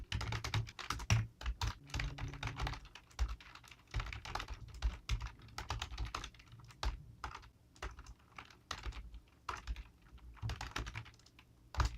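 Steady, brisk typing on a computer keyboard fills the whole stretch, with quick clustered keystrokes and brief pauses, close and clear with no voices.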